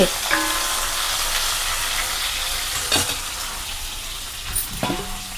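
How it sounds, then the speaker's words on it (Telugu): Pieces of ridge gourd sizzle steadily as they fry in hot oil, with a spatula scraping and stirring through the pan in a few distinct knocks, close and fairly loud, with no talking. "బీరకాయ ముక్కలు వేసేసుకుని చక్కగా ఈ నూనెలో అటు ఇటు కొంచెం అగ్గనిచ్చి"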